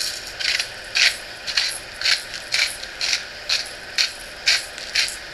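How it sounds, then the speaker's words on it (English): A hand grinder crushing pink Himalayan salt gives repeated gritty, rasping turns in a steady rhythm, about two per second, close and moderately loud with no voices. "So you take your salt and you want a relatively fine grind on it."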